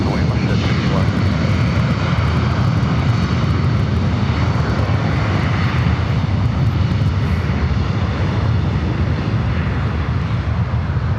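An airliner taking off from runway 24 left at Los Angeles International Airport, a loud, continuous engine roar that holds steady and close throughout.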